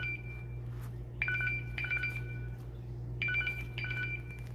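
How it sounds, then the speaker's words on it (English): A phone ringtone repeats in short tonal bursts from inside a Faraday bag, fairly clear over a steady low hum, with no talking. "I'm gonna stop it from ringing."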